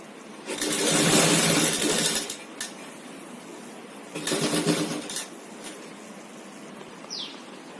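A sewing machine stitching a blouse design whirs in two short bursts, a longer first run and a briefer second, close and clear with quiet pauses and a few light clicks.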